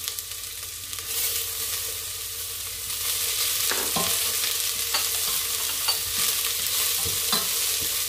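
Garlic, onion and galangal fry in a pan for Tom Yum soup, a steady close sizzle with scraping stirs and clinks of a utensil throughout, no talking.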